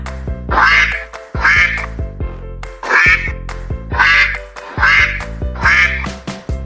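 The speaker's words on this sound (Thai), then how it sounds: "เป็นเสียงเป็ด" A duck quacks in six loud, evenly spaced bursts of raspy calls, close and clear with no talking.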